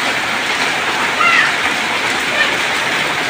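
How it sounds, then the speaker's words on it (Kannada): Rain pours down in Goa at night in a loud, steady wash with a constant hiss of drops on surfaces, close and unbroken, with no speech. "ನೋಡ್ರಿ ಗೋವಾದಾಗ ಮಳೆ ಬರಕತ್ತೈತಿ."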